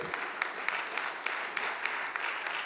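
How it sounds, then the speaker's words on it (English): Faint, distant applause from an audience at an evening talk event, a steady patter of clapping with a few sharper claps spaced through it. "Oh, they clapping, I'll stop there."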